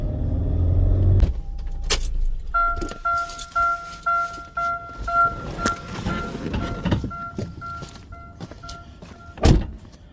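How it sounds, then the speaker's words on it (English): A 2009 Chevy Cobalt with new brake rotors and pads on a test drive: a door thuds, then a steady chime beeps repeatedly over the engine and cabin noise, with a few clicks and knocks. "Take it for a little test drive."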